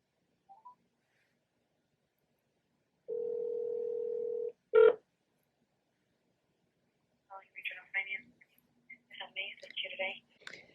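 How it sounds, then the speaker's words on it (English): Phone call placed to a lender about paying off a personal loan: a steady dial tone runs for about a second and a half, then a sharp keypad beep, followed by a burst of rapid touch-tone dialing tones. "let me call and get them on the phone"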